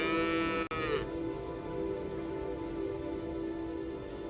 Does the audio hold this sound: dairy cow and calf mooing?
yes